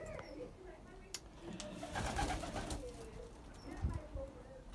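Racing pigeons coo softly in a loft on race day, with faint low calls, light rustling and occasional taps, quiet and close.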